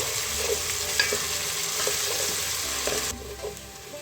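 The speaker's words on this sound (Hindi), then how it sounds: "उसको भी चंद सेकंड के लिए हम भूनेंगे प्याज के साथ" Steady sizzle of garlic paste frying with onions, soft intermittent stirring scrapes, moderately loud and close, running continuously without voices.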